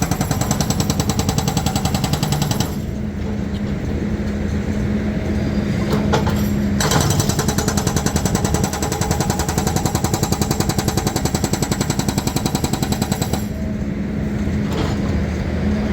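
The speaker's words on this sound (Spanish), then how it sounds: "La fuerza que tiene este martillo hidráulico de la excavadora que tenemos aquí es brutal." Rapid, continuous pounding of an excavator's hydraulic hammer breaking concrete at a stadium works site, loud and close, with heavy machinery rumbling underneath and brief pauses between bursts.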